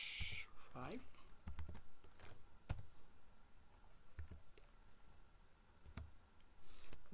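Code being typed on a computer keyboard, irregular bursts of close clicky keystrokes with pauses between, and a voice talking faintly over part of it.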